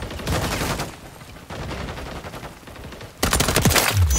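Rapid automatic gunfire in a shooter video game, bursts of loud close shots in several clusters with short pauses, ending in a heavier dense volley.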